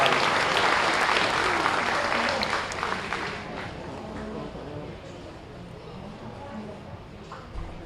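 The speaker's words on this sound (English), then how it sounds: "let's give another nice round of applause" A crowd at a 2023 beef cattle show applauds in a full, loud round that gradually softens and tapers across the clip, with indistinct talk faintly underneath.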